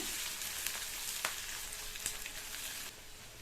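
Onion, garlic and ginger sizzle steadily in a hot pan for a Tamil-style paneer butter masala, with a broad frying hiss and a few sharp clicks of a spoon against the pan.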